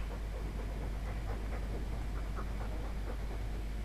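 A dog in the video game Dragon Age 2 pants steadily, a fast, rhythmic, breathy huffing that stays close and continuous over a low background hum.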